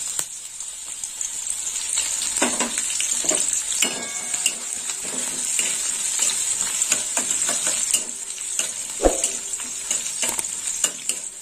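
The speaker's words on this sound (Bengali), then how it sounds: "একটু ভালো করে ভাজা হবে।" Chana dal and chopped green chillies spit and sizzle in hot oil, close and fairly loud, with scattered crackles and spatula taps against the pan and no speech.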